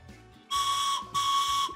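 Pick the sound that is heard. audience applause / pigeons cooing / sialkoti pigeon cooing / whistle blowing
whistle blowing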